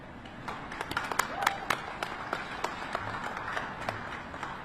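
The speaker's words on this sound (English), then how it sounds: "I think that deserves a round of applause." An audience at the U.S. Mint in Philadelphia breaks into scattered applause, individual claps popping over a dense crowd wash, moderately distant and steady, with some voices mixed in.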